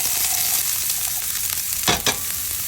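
Onions frying in oil in a pan, a steady close hiss of sizzling with two short stirring knocks near the end, no voices.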